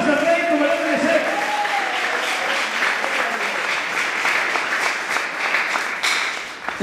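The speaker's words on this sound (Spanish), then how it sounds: "dar esas palmas al Rey como debe de ser?" Church congregation clapping together during a sermon, sustained and fairly loud applause filling the room, tapering slightly near the end.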